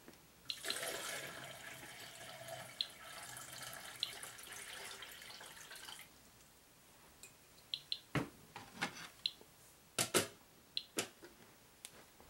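Tap water pours into the top reservoir of a Seychelle portable radiological water filtration pitcher, a steady rushing splash for about six seconds, then scattered clicks and taps as the pour stops.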